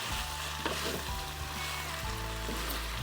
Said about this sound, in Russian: И пускай потихонечку теперь все у нас жарится